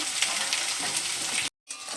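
Potatoes frying in a pan give a dense, continuous sizzle with a brief dropout near the end before the crackle resumes.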